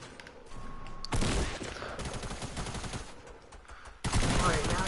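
Bursts of video game gunfire crack through loud close-up shooting noise, with rapid volleys and a sharp new burst near the end. Faint voices appear in the background.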